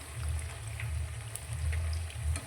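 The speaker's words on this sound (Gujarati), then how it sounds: "તો હવે તેને આપણે આ રીતે પલટાવી લઈશું અને બીજી સાઈડથી પણ ક્રિસ્પી થાય તે રીતે તેને તળી લઈશું." Green fenugreek snack frying in shallow oil in a pan, a steady close crackling sizzle with a low bubbling hum underneath, continuous throughout with no voices.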